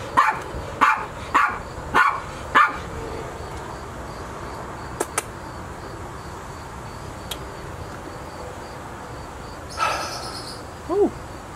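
A puppy's short barks, about five in a quick irregular run near the start, fairly close and clear over quiet outdoor ambience with insects, then a couple of fainter sounds later.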